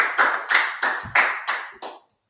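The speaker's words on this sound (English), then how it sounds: "Clap it up. Clap it up." Six quick, even rounds of group clapping from an audience at a gathering, each burst sharp at the onset and fading before the next, close and fairly loud, ending abruptly.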